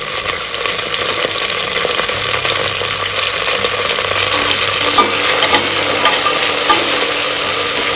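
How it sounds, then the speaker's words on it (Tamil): A full handful of mint leaves fries in hot oil in a pan for Dindigul chicken biryani, with a steady close sizzle broken by scraping stirs and occasional spatters. "இந்த ஸ்டேஜில் நம்ம ஒரு கை ஃபுல்லாக வந்து புதினா போட்டுக்கலாம்"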